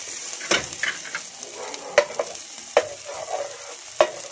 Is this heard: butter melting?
yes